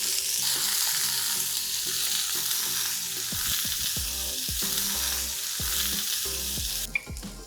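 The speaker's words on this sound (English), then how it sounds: "I'm going to add the bhindi to this and saute it till they are partially cooked." Okra sizzles steadily in hot melted ghee in a pan, a constant frying hiss with soft knocks and scrapes of stirring underneath, ending with a sharper clink.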